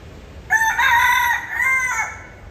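A rooster on Kauai crows once nearby, a loud, drawn-out cock-a-doodle-doo lasting about a second and a half over quiet background.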